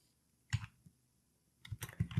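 Someone types on a computer keyboard in a quiet room: one quick cluster of clicks, a pause, then a faster run of keystrokes near the end.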